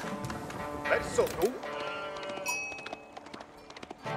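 Sheep bleat in the Age of Empires IV strategy game, a few short wavering cries near the start among game clicks and ambience, with someone talking over them.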